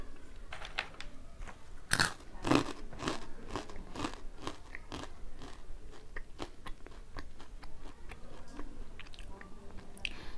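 Close, crisp crunching and chewing of Toto Twist Tomato stick snacks, spicy tomato-flavoured long crunchy sticks, with repeated sharp bites and steady mastication crackles running throughout, no talk.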